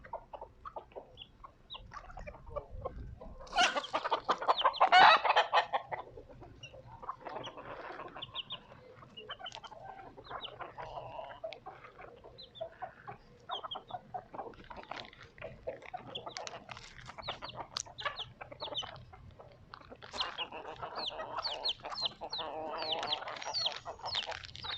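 Backyard chickens cluck, squawk and chatter close to the microphone, with louder flurries of calls breaking out around several points over a continuous rustling background; no one speaks.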